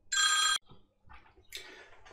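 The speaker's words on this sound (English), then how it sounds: "It's a phone call just when you when you don't want it." A telephone rings loudly indoors in a single long electronic trill, followed by quieter shuffling and a second fainter burst of sound.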